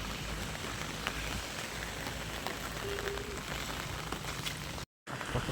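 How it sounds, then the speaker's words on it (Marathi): Steady heavy monsoon rain falling on a hard surface, a continuous hiss with scattered drops, fairly loud and close, no voices. "आत्ताशी पाऊस उतरला आहे"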